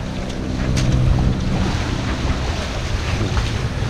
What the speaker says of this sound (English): It's been a north wind. That's why we had such messed up seas.